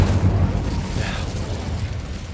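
Incendio fire spell cast in Hogwarts Legacy, a short loud whooshing burst of flame with a low rumbling boom that tapers off over a couple of seconds.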